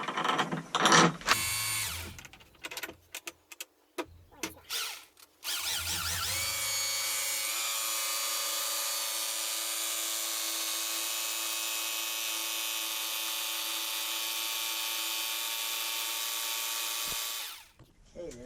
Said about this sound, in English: So got an SDS drill, just going to see where that is touching